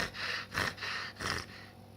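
A human voice imitates a dog panting on a hot day, with quick rhythmic breathy huffs in three or four bursts, close to the microphone and alone.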